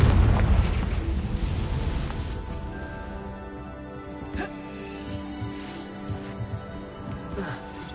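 A Confringo spell bursts in Hogwarts Legacy with a loud, deep explosive boom that decays into a rumbling tail, followed by softer scattered pops and crackles of game ambience.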